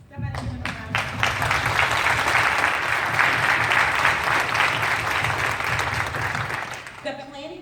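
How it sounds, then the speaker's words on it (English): Audience applause at the opening of a professional association's annual conference and expo, a sustained, loud round of clapping from a large room that fades near the end, followed by a voice speaking. "Somebody give them a round of applause."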